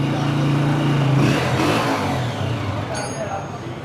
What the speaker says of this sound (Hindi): अच्छी नॉक में इंजन बोल रहा है, साउंड सुने ज़रा